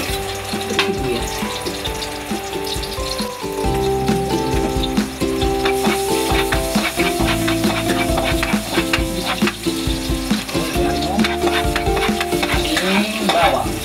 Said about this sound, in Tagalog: Unahin po natin yung sibuyas.